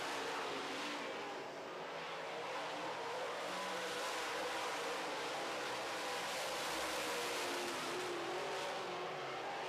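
Late model race cars roar around a racy track during heat races, a continuous loud wash of engine noise with no voices over it.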